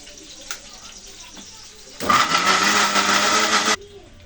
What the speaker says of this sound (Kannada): ಅದನ್ನು ನಾನು ಮಿಕ್ಸಿಗೆ ಹಾಕಿಬಿಟ್ಟು ಗ್ರೈಂಡ್ ಮಾಡ್ಕೊತೀನಿ